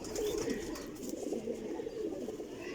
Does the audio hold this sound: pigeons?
yes